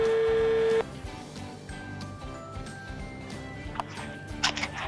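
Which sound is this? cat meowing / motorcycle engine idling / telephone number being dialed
telephone number being dialed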